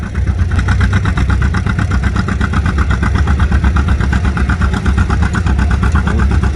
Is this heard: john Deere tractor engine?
yes